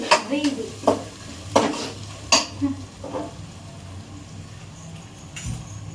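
Mustard seeds fry in hot oil, sputtering and crackling with several sharp pops and a scraping stir in a pan, all over a low steady hum.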